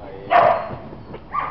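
A dog barks during an agility competition run, a loud nearby bark followed by a softer second bark after a short pause, with no talking over it.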